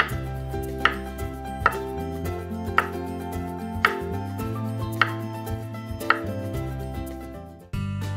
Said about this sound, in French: Et ensuite, je coupe la banane en petits morceaux.